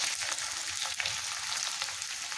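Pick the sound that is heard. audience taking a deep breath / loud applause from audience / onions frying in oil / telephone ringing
onions frying in oil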